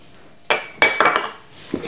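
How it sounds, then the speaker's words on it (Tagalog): Dry pie-crust ingredients, salt and sugar, tossed together in a bowl, giving a few sharp clinks and scrapes of utensil against the dish in quick succession, close and fairly loud with no talk. "So, haluin lang natin siya."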